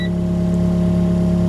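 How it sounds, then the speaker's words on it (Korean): Hitachi ZC125M macadam roller diesel engine idling at low RPM, a steady, even drone with a constant low hum, close and unchanging throughout. "지금처럼 시동 걸어 놓고 엔진 RPM 낮춰 놓고"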